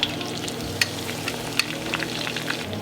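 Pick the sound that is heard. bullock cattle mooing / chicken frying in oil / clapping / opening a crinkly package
chicken frying in oil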